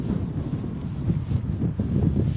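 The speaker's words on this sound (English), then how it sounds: "Still crosswind conditions here, as you can probably hear." Crosswind at Bristol Airport buffets the microphone with a continuous low, rumbling roar that swells and eases slightly throughout, with no other clear sounds.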